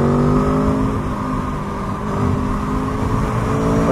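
2022 Aprilia Tuono V4 motorcycle engine while riding, a loud continuous roar with steady harmonic tones that dip slightly and rise again, with wind rush and no talk.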